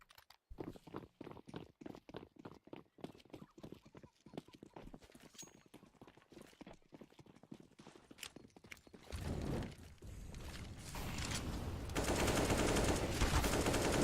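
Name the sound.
MP9 submachine gun fire in Counter-Strike video game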